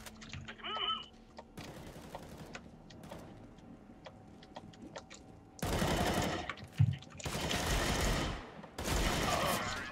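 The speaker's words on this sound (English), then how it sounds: "how many times can I shoot with a Deagle and you not die?" Desert Eagle pistol shots in the online shooter CS:GO, a run of sharp bursts and repeated loud cracks in the second half, with quieter clicks and faint game noise before.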